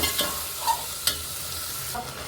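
Chopped tomatoes sauté in hot oil with turmeric and asafoetida for coconut milk rasam, a continuous sizzle broken by a few scraping stirs of the spoon in the pan.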